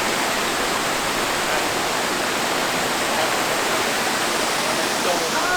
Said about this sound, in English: Here we are, Torc Waterfall.